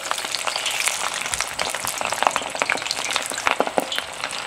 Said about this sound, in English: Now it's time to go ahead and drop in our garfish balls.